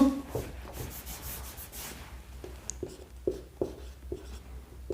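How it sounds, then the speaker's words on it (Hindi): Chalk or marker writes on a board during an algebra lesson, with a scratchy rubbing stroke first and then a series of short, regular tapping strokes. "तो ये बात मैं यहीं पे लिख देता हूं"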